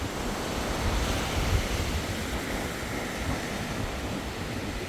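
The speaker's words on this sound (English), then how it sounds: "The ocean looks beautiful tonight." Ocean surf at Daytona Beach, Florida, at night: a steady, broad wash of breaking waves with some wind rumble on the microphone, continuous and moderately distant, with no talk.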